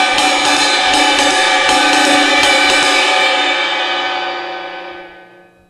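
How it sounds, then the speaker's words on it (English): A 20-inch jazz ride cymbal struck repeatedly with a stick, bright shimmering pings over a wash, then let ring and fade slowly into silence; close and loud. "The ride cymbal I have set up for me right here is a jazz ride cymbal, and it's 20 inches."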